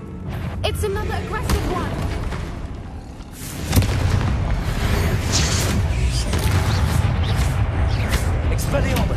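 A Confringo explosive spell goes off in Hogwarts Legacy with a heavy boom around the four-second mark, followed by sustained rumbling combat noise while a voice speaks over the action.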